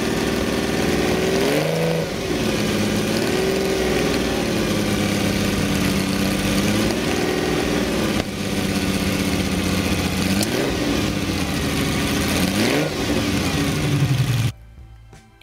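A Ferrari 250LM's 3.3-liter naturally aspirated V12 revs up and down in repeated loud, close swells, each rising and falling pitch sweep blipping over a steady engine rumble before cutting off near the end.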